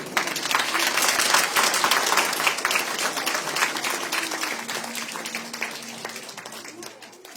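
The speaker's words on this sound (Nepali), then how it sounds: "प्रभुको छोरीलाई हामी ताली बजाएर धन्यवाद दिन्छौँ प्रभुको वचनको लागि" Church congregation in Kathmandu applauding after a sermon: a loud, dense wash of clapping that slowly thins and softens over several seconds, with a voice beginning to speak beneath it toward the end.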